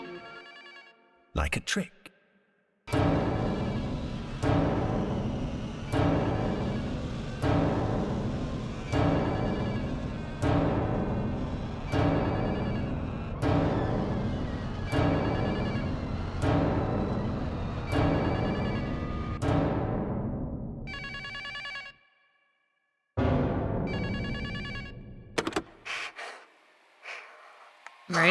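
A telephone rings repeatedly in a steady rhythmic pattern during a game trailer, loud and prominent, with voices speaking over and between the rings before it cuts off.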